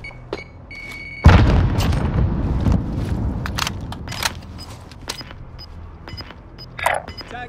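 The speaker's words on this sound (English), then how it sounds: "Grenade out!" A grenade detonates in the Call of Duty Warzone video game with a sudden heavy boom, followed by a long rumbling tail and scattered sharp clicks and pops, loud and close.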